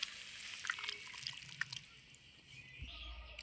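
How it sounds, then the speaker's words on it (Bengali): Chicken do pyaza curry being poured from a pan into a bowl in a home kitchen, giving soft wet drips and trickles with a few light clinks, fairly faint and close. "এই যে বন্ধুরা আমি ঢেলে নিচ্ছি একটা পাত্রের মধ্যে দেখুন"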